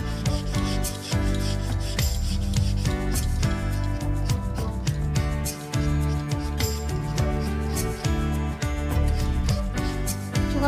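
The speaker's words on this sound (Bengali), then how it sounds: "এইভাবে আমি সমস্ত পটলের উপরের চোকাগুলো পরিষ্কার করে নেব।" A kitchen knife scrapes the skin off pointed gourd (potol) being prepared for a prawn-stuffed dolma, giving a steady run of close, rhythmic rasping strokes over continuous background music.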